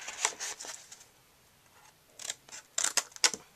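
Several short, crisp snipping sounds of scissors trimming foil-paper gift box edges, up close, arriving in small bursts with quiet pauses between them.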